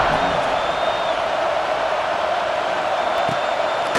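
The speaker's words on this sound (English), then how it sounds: "this crowd now ready to get behind them" Stadium crowd in EA Sports College Football, a Lions Big Ten rivalry game, roaring steadily at the fourth-quarter kickoff, a dense continuous wash of cheering that never lets up.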